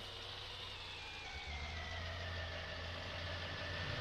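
Tractor engines idle in a traffic jam in Farming Simulator 19, a steady low diesel rumble with a faint whine above it that holds evenly throughout, moderately loud, with no talk.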